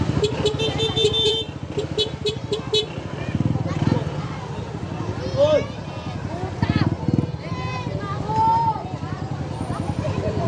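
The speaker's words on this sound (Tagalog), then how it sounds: "Traffic na, traffic." Busy street traffic heard from a single e-bike stuck behind parked cars and passing pedestrians: car engines, motorcycles and several car horn toots, loud and close, with people talking throughout.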